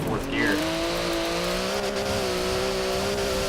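Porsche 959 rally raid build in Forza Horizon 4 pulling hard in fourth gear, a steady loud engine drone with rising harmonic pitch, a brief tire squeal at the start, and a voice talking over it.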